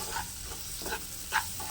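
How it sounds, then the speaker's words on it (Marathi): Boiled jackfruit seeds frying in masala in a pan give a soft, steady sizzle with brief stirring scrapes, heard up close with no voices. "त्यानंतर उकडलेल्या बिया यामध्ये मी टाकणार आहे आणि त्याही मसाल्यासोबत फ्राय करून घेणार आहे।"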